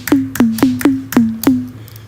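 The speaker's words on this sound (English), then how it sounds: "Kick is usually a sine wave" Five deep, booming TR-808 style sine-wave kick drum hits, each a sharp click dropping into a low sine tone, evenly spaced and loud.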